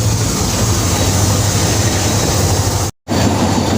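Loud continuous rumble of an intercity train rolling past close by in Bangladesh, steady throughout with a brief dropout near the end.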